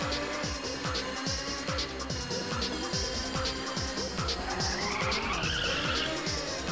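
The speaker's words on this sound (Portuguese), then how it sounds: "muito fechado esse drift" Tires skid and squeal through a drift in the Ridge Racer arcade racing game, a steady loud screech over droning engine tones that rise and fall in repeated gear-shift sweeps, constant throughout.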